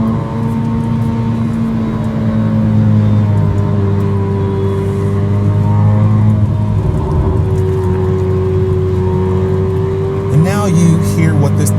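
A Corvette C8 Z06 with an AWE SwitchPath exhaust burbles low and steady while cruising slowly in light canyon-road traffic, with a deep drone shifting pitch as it moves along; brief higher whine near the end.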